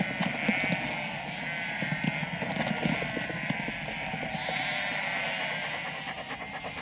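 Several sheep bleat repeatedly in wavering cries during a flock gather on the Isle of Man, overlapping one another, with faint hoof clatter and rustling beneath.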